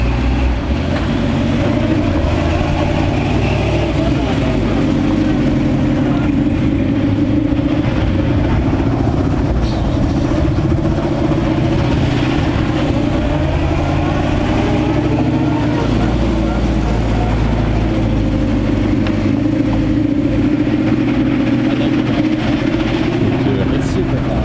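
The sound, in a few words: 1965 Chevy C-10 truck engine idling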